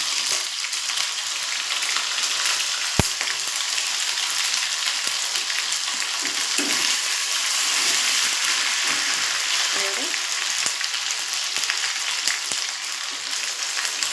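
Ginger paste fries in hot oil with whole garam masala and cumin for matar paneer, giving a steady, close, broadband sizzle that holds throughout, with a sharp tap near the start and faint voices underneath.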